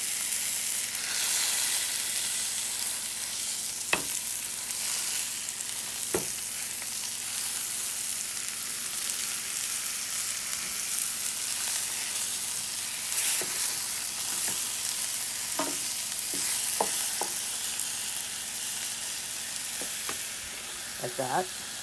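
Osso buco meat sears in an Instant Pot with a steady, close frying hiss that runs continuously, punctuated by occasional scraping and clinking as the pieces are moved.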